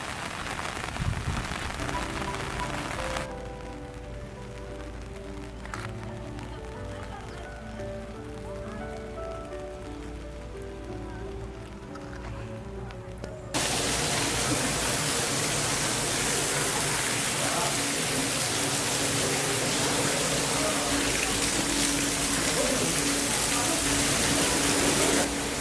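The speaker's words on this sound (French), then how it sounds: "il pleut de ouf" Heavy rain pours down in a German-style garden in Yeosu or Suncheon, Korea, as a loud, steady broadband hiss that swells abruptly partway through and holds at full strength, with faint voices and other sounds beneath it early on.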